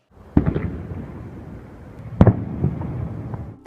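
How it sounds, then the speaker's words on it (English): Frostquake booms during a blizzard in Kansas City, Missouri: two sharp, loud cracks about two seconds apart, each trailing into a rumbling, crackling tail over steady background noise. "a frostquake."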